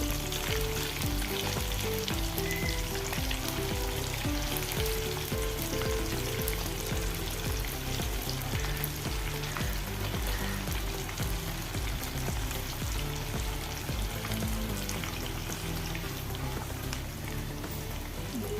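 Chicken pieces frying in a pan with curry leaves, a dense, steady, loud sizzle with crackling spatter that continues unbroken throughout, close up and without talk.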